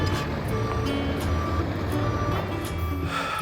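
Fuel oil delivery truck reversing, its backup alarm beeping steadily and evenly over a low idling diesel rumble.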